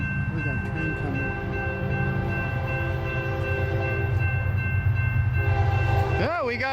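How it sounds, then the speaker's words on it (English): An eastbound Union Pacific train approaches a rail yard on the original main line, its engine droning steadily while a horn sounds in short blasts near the end, with people talking over it. "We got a train coming."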